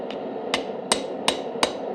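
A hammer strikes a thin chisel five times at a steady rhythm, punching holes in hot steel while forging a twist wand. Each blow is a sharp, ringing metallic clang, close and loud, with no talking.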